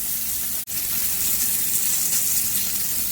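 Steady, loud sizzling hiss of salmon skin frying in a hot pan, with one brief sharp crackle near the start.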